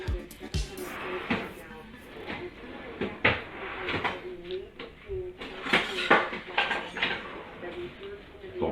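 Utensils and dishes clatter and clink in a home kitchen while someone rummages for a whisk during pizza dough prep, with irregular knocks and scrapes close by and a voice talking intermittently.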